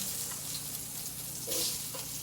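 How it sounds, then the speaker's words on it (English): Pepper garnish sears in a pan for lamb paella, giving a dense continuous sizzle with a slight swell midway, with no voices present. "Now I'm going to start searing my pepper garnish here."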